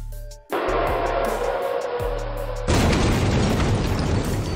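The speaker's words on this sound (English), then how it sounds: "This explosion looks beautiful from above, but extremely dangerous up close." A big explosion rips out after a car stops on the road, a loud sustained boom and roar that jumps sharply louder partway through and stays dense with crackling debris to the end.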